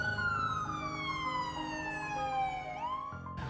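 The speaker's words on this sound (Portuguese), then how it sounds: "O exemplo clássico desse fenômeno, que eu tenho certeza que você já vivenciou, é o da sirene de uma ambulância" A passing ambulance or police car's wailing siren drops steadily in pitch, then rises briefly before cutting off, with a faint road rumble beneath.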